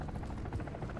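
An attack helicopter in Call of Duty MWIII thumps with rapid rotor pulses, a steady chopping drone filling a single second at moderate volume.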